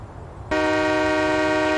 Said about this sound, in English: The honk is working.